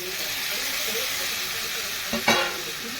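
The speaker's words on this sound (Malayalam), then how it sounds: "നമ്മൾ തക്കാളി ചേർത്തിട്ടുണ്ട്, നമുക്ക് വഴറ്റിയെടുക്കാം." Onions and tomatoes sauté in a pan with a loud, steady sizzle and hiss, followed near the end by a brief stirring scrape and a sharper burst as the mixture is moved.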